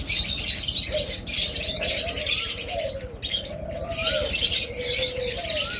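Pet birds at a bird seller's shop, including lovebirds, cockatiels and budgerigars, chirp and tweet continuously with repeated short calls, fairly loud and close, with no talking.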